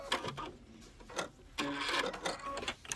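A sewing machine runs a short back stitch in a quilting session, its needle motor whirring in quick bursts with a pause, close and fairly quiet, with no talking.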